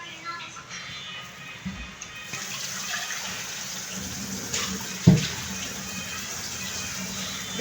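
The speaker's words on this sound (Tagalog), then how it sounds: "Hugasan mo yan, Doy." Tap water runs steadily while eggplant is washed in a kitchen, with a continuous splashing rush and a sharper splash midway.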